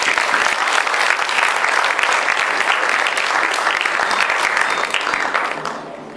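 A large audience applauds steadily and loudly for Undersecretary Richard Stengel at a YSEALI 2014 event, a dense wash of clapping that holds evenly before fading near the end.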